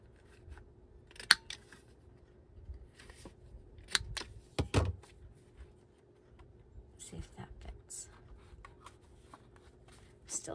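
Scissors snipping paper to round off its corners while making a mixed-media zine, a few short quiet crisp cuts scattered among soft paper handling, with a voice talking at times.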